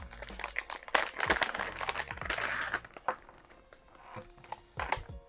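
A plastic bag holding a PC controller is handled and crinkled, with irregular crackling bursts close to the microphone that come in waves, then ease into quieter rustles and a few sharper crinkles near the end.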